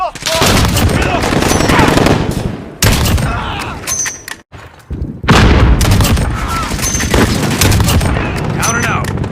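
Dense gunfire and booming explosions from a Call of Duty Warzone / Modern Warfare match, loud and nearly continuous with a brief lull midway, and a sniper rifle among the shots.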